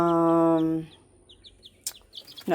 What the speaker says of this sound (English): over here we have a total of 12 chickens